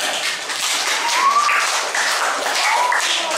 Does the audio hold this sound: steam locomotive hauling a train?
no